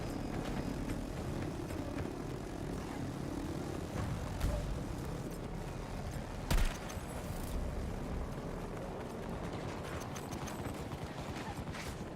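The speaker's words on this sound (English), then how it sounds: "Oh my god, that chopper." A helicopter in the video game Stranded makes a dense, steady rumbling drone with a low chopping texture, loud and continuous throughout, with a couple of sharper knocks partway through and no talking.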